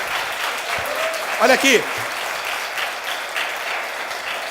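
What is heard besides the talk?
congregation applause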